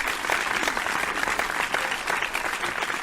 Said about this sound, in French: Je vous invite à applaudir très fort.